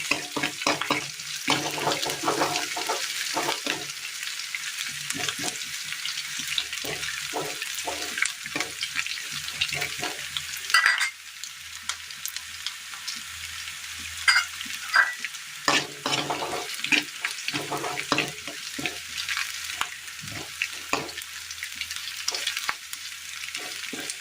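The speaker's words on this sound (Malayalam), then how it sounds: "ഇതിലേക്ക് ഇഞ്ചി ഇട്ട് കൊടുക്കാം." Ginger frying in hot oil in a pan in a Kerala kitchen, a continuous close sizzle punctuated by frequent rhythmic spoon scrapes and taps as it is stirred, with a louder clatter about midway.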